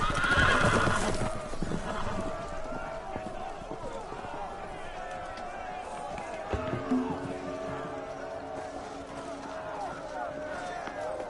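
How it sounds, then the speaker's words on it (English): Loose horses in a Game of Thrones video game neigh and whinny loudly over a clatter of running hooves, with a constant scene din and some voices mixed in. "The horses! They're loose!"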